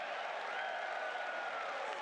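A crowd at a live esports event in America applauds and cheers, a dense, steady wash of clapping heard from a distance and fairly faint.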